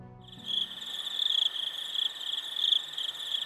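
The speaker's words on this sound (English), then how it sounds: "Crickets, I bet." Crickets chirping in a steady, high-pitched trill that starts after a brief moment and continues evenly throughout, fairly close and alone with no other sounds.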